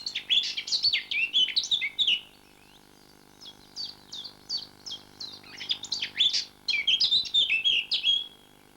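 A warbler sings near and clear, its song like a garden warbler's but louder and broken into shorter phrases, with a few bursts of rapid chattering notes separated by brief pauses.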